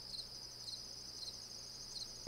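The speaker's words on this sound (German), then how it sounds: "Dann kommen jetzt hier Grillen." Crickets chirp steadily in a video game's night-time ambience, a continuous high-pitched insect trill with regular pulsing, alone and fairly quiet over a faint low hum.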